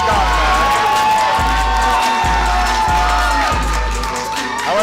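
Live crowd at a ProSouth Wrestling event, a loud continuous roar of cheering and whooping that fills the venue, with a low rhythmic thumping throbbing steadily underneath.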